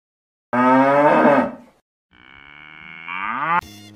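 A cow lows twice with a pause between, the first moo full and loud, the second longer and rising, ending in a brief sharper sound.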